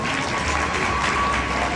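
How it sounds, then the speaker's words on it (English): Talk show studio audience clapping together in a dense, steady burst of applause, loud and close, with no talking on top. "yes, please clap, clap."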